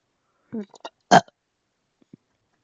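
A short, voiced burp from a person, alone in a quiet room, followed by a couple of faint small sounds.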